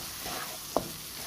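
Chinese rice vermicelli frying in a pan with extra oil, a faint steady sizzle with one brief stirring scrape, no voices.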